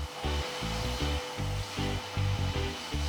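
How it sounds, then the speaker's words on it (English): A Hoover vacuum cleaner running in a family home, a loud steady motor drone with rhythmic pulsing swells as it is pushed back and forth, close by with no talking. "can you show me how the Hoover works then"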